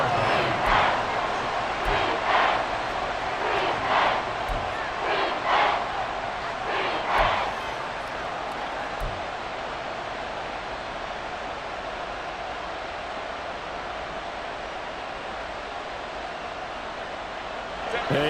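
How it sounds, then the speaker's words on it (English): A stadium crowd in a Madden NFL game roars on its feet, a broad sustained cheer with rhythmic chant-like swells early on, then a steady wash of noise; a commentator speaks over it. "Crowd on their feet."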